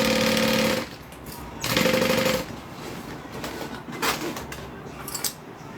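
Sewing machine stitching back over a stitch line in two short rapid bursts of close mechanical whirring, followed by quieter handling clicks and shuffling.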